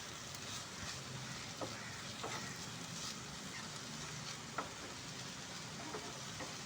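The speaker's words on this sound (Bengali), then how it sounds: "তো এর সঙ্গে নেড়ে চেড়ে খুব ভালো করে মিশিয়ে নিলাম।" Egg bhuna with tomato and chopped coriander is stirred in a pan, giving a soft, steady sizzle with faint scraping taps scattered throughout, low and even, with no talking.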